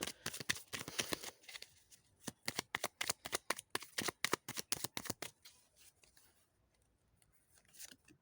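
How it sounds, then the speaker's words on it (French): Tarot cards being shuffled and drawn up close: rapid crisp riffling flicks in dense bursts, then a pause and a few softer card snaps, with no voice. "je tire une ou deux cartes de plus et puis je m'arrête là"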